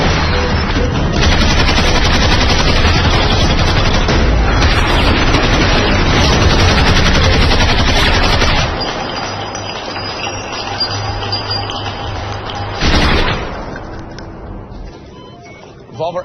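Heavy automatic gunfire from the action film Extraction: dense, continuous machine-gun bursts roar loudly for about nine seconds, then drop to a quieter rumble before one more sharp burst.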